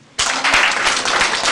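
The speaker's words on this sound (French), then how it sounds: "Bravo. On applaudit." Dense applause from an audience starts abruptly after a brief quiet moment and carries on steadily as a loud, close wash of many hands clapping together.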